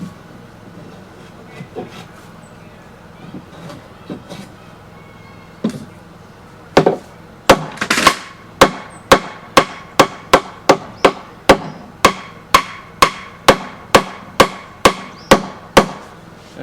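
A wooden well board on a hand-built workbench is bumped back into place with a string of sharp, evenly spaced knocks, sparse and softer at first, then a steady run of about twenty loud close blows.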